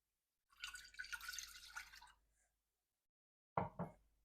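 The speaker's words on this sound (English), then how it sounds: "Add the water." Water poured into a sauce pot on a stovetop heating at medium high: a steady splashing pour of about a second and a half, then silence, then two short close splashes.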